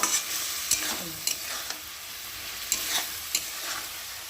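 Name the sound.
frying and stirring mustard paste in oil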